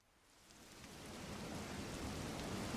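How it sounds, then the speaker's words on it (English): Steady rain sound effect in a tabletop role-playing game scene, a broad hiss of rainfall swelling from quiet to a full, even downpour with no voices. "Wind whips around you, and the rain lashes at your faces."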